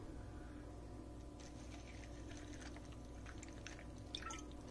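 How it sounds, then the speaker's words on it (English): Apple liquor is poured into a glass for a cocktail, a faint, close trickle of liquid with a few small drips over quiet room noise, with no voices. "So I'm just going to pour that amount."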